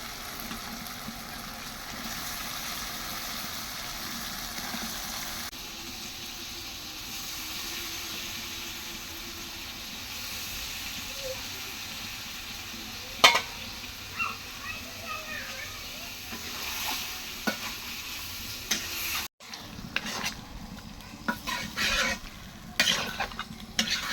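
Beef goes into spice paste already fried in oil and sizzles steadily while being stirred, with a sharp clatter of utensils on the pan midway and more scraping near the end. A voice speaks at times.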